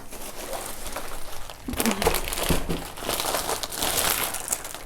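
A plastic shopping bag of groceries from a METRO store is handled and crinkled up close, with bursts of loud rustling and crumpling and no talking.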